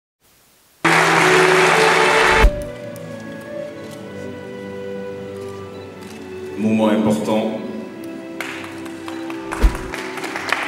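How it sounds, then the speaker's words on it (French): An audience at a convention signing ceremony between chambers of commerce claps in a dense, loud burst of applause lasting about two seconds, followed by a room hum and a short spoken remark. "Merci d'applaudir."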